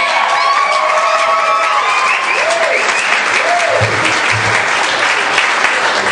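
Comedy club audience applauding and cheering steadily and loudly for several seconds after a stand-up comedian's set, with scattered whoops and shouts rising above dense clapping.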